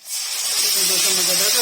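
Cumin seeds crackle and sizzle in hot oil, with cloves in the pan, while qeema biryani is being cooked. The sizzle is loud and close and holds steady for the whole stretch, with a faint voice in the background.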